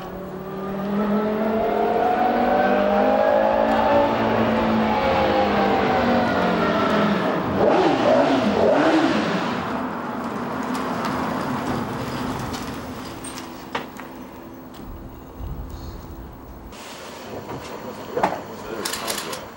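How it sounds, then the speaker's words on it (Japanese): Jiotto Caspita supercar with a JAD V10 Formula One engine howls on track, a loud revving engine note rising and falling, then fading into scattered clunks and mechanical noises, with a voice talking over it. "JAD の V10 という F1 のエンジンをそのまま乗せてしまったという"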